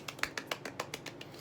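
Rapid finger snapping, used as a celebratory clap, about ten quick, light snaps in close succession, soft and near.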